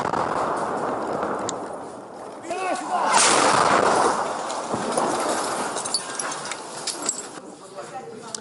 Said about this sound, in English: have been exchanging fire for the past several days in what looks to be a direct violation of the Minsk agreement